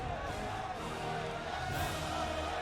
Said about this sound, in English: Crowd is loving it.